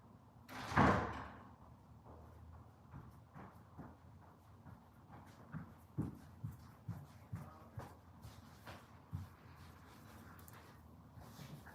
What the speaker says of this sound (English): I'm going to go shut the door